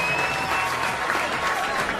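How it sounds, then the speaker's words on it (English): A studio audience applauds and cheers throughout, a dense, loud, continuous patter of clapping with crowd voices mixed in. "Give them all a big cheer as they make away."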